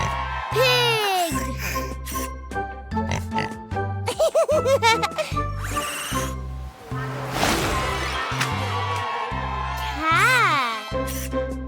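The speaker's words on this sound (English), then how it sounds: "Pig!" A cartoon-style pig oinks in short grunting bursts over bouncy children's background music. A voice speaks alongside it.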